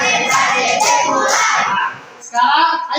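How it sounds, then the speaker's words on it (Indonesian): A classroom of students doing a concentration clap routine, loud bursts of group clapping and shouted chanting in a close room, pausing briefly before a second burst. "Kita tepuk konsentrasi dulu."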